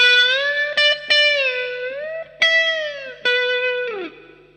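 Electric guitar plays a solo with long sustained notes, bends and slides through an effects unit with mild distortion and chorus, each note ringing out alone.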